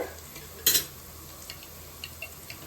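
Onions frying in a pan for a country-chicken curry, a continuous sizzle broken by a loud clatter of a spoon stirring against the pan and a few lighter scrapes afterward.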